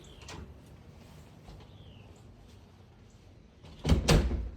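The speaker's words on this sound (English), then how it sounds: "walking through the front door." The front door of a house swings open, a short creak followed by a louder wooden knock and rattle near the end, preceded by faint footsteps and soft birdsong in a quiet room.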